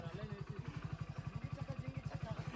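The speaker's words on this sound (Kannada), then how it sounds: "ನಮ್ಮ ಬೈಕ್ ಹತ್ತುತ್ತಾ ಇಲ್ಲ" A motorcycle engine labours up a steep slope in a rhythmic, chugging pulse close by, while people talk over it.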